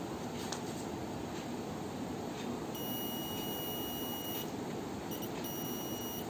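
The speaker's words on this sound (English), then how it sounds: "here I am just showing you whether it's working or not using the buzzer" Steady high electronic beeping tones switch on partway through and continue over a constant background hiss, with a brief gap before resuming.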